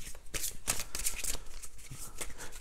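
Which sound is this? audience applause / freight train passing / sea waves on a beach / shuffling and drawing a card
shuffling and drawing a card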